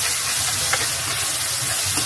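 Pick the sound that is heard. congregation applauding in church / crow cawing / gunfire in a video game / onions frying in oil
onions frying in oil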